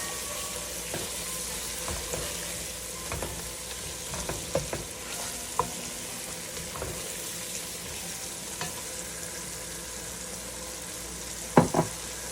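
Steady sizzling of tomatoes and spices frying in a pan with occasional stirring scrapes and clinks, a sharper clatter near the end; no talking.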